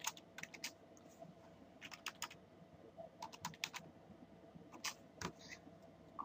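Keys clatter on a computer keyboard in short bursts of quick taps separated by pauses, a few louder clicks standing out, close and fairly quiet against a faint room hiss.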